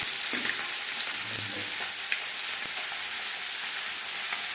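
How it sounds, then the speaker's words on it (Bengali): Panch phoron spices fry in a kadai of oil for a low-oil fish gravy, giving a steady, close crackling sizzle with occasional pops and no talking. "গ্রেভির জন্য আমি আলাদা একটা কড়াই বসিয়েছি। দিয়ে দিলাম পাঁচফোড়ন।"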